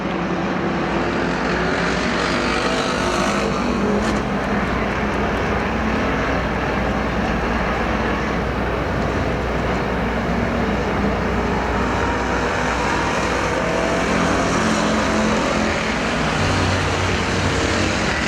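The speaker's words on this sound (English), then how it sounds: "Now Pierce, a good run down the back straightaway, trying to go to the inside of Myers for 2nd" Factory stock race cars in a PASSCAR main event at Perris Auto Speedway roar steadily around the dirt oval, a dense continuous engine drone held at high level throughout with no voices.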